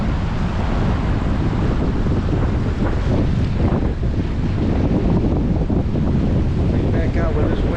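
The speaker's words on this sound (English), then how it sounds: "Back out where this wind is really kicking." Strong gusting wind buffets the microphone during an e-bike ride in high winds, a loud, steady roar that fills the whole clip without letup.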